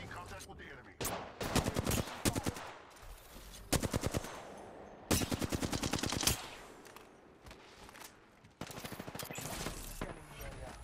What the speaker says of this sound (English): Firing! Making contact with the enemy.